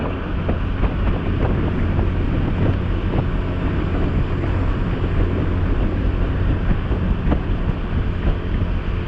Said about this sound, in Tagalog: Lamig, lakas ng hangin.